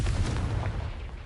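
Deep booming explosion from the Confringo fire spell in Hogwarts Legacy, a heavy low rumble that swells at once and slowly fades over about a second, loud and alone.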